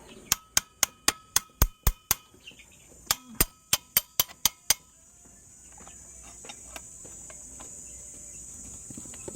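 A series of sharp metallic hammer strikes on a Suzuki Burgman Street 125 scooter part during a clutch spring change rings out in quick, steady bursts, pausing briefly before another run, then quieter clinks follow.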